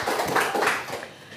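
An audience applauds in a studio talk-show setting: a short burst of close clapping that thins out and fades within a moment.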